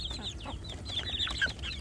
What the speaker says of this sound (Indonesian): istimewanya anak ayam kampung saya yang ada di dalam box ini